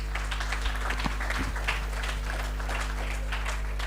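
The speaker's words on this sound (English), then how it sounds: "another round of applause to the awardees especially" Applause for award winners at a ceremony at MICA, an even, continuous patter of many hands clapping at moderate level with a low electrical hum underneath.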